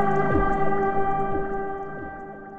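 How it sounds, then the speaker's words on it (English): A sustained granular synth pad note from Padshop 2 with aftertouch vibrato, rich steady harmonics wavering slightly in pitch, played alone and loud, slowly fading. "now, when I activate the aftertouch, you can hear that the note has vibrato."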